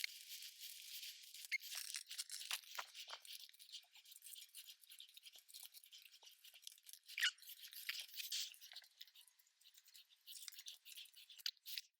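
Paper prompt cards being shuffled by hand, soft crisp rustling and flicking in quick irregular bursts, close but faint, with no talking.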